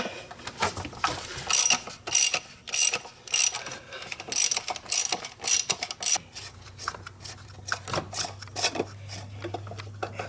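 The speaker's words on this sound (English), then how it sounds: "using a 24mm socket, a ratchet extension to make life easier for you, and a ratchet, we're going to go ahead and remove the filter cap now" Ratchet with a 24mm socket clicks in rapid repeated bursts while removing the oil filter cap on a Jeep Wrangler JL 3.6L V6 Pentastar, close and distinct, with a steady low hum entering partway through.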